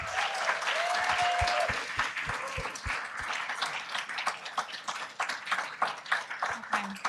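Scattered applause for nine teams at a climate-tech studio final showcase, a few distinct hand claps near the start then softer, thinner clapping trailing off, with a voice speaking faintly over it.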